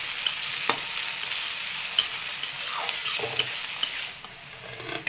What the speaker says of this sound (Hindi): अब इसी में प्याज भी डाल देती हूँ। इसको थोड़ा सा भून लूंगी।